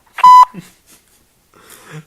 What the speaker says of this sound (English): It's dialing.